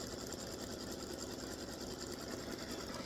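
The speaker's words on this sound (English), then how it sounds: "I will be back when all this has done the satin stitching." An embroidery-style sewing machine satin-stitches around a fabric appliqué on a quilt block, running as a steady, even, rapid whir at low volume, alone and without talk.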